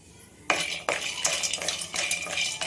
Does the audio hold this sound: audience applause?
no